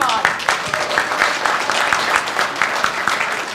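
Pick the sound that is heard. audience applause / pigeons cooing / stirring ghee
audience applause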